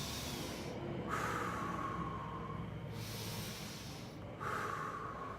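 Slow, deep breaths taken in and out close to the microphone, two long airy exhales separated by quieter inhales.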